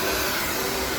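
A blower runs in a steady, loud, continuous whoosh with no break, close by and alone.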